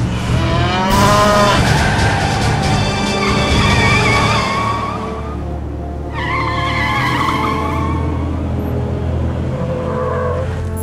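A cow in the game Command & Conquer Renegade gives two long, loud, drawn-out moos, the second after a brief pause, over a steady low rumble of game ambience, with no speech.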